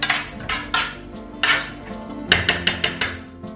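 A spoon or utensil clanks against a slightly bent pan while a garlic clove is stirred, giving a series of sharp metallic knocks and scrapes, close and fairly loud with no voices.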